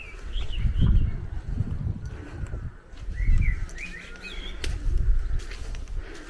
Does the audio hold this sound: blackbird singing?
yes